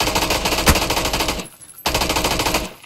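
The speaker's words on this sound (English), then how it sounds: "Do you want me to keep shooting?" Rapid automatic gunfire in a video game, loud and close, firing in two sustained bursts separated by a brief pause.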